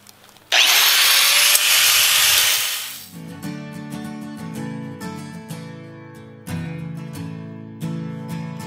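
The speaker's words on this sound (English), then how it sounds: "I've got a cutting wheel on my grinder." An angle grinder fitted with a cutting wheel slices into an old metal window frame: a loud, harsh screaming whine for about three seconds, then the wheel spins down into a ringing, clattering rumble of lighter grinding contact.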